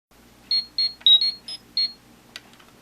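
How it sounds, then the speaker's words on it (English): A Power Rangers Legacy Morpher toy plays a short electronic beeping tune: five bright, evenly spaced tones close up and fairly loud, ending with a brief chirp. "When you turn it on, it plays a little beeping sound of the theme"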